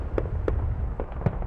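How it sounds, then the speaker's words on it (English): Uncontrolled fireworks in Citrus Heights bursting in a rapid scattered series of sharp pops and bangs, some nearer and louder than others, over a steady rumbling background. "anything can happen with dangerous fireworks that are not controlled"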